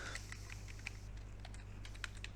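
Code being typed on a computer keyboard, with quick, light clicking keystrokes in an uneven rhythm over a steady low electrical hum and no voice.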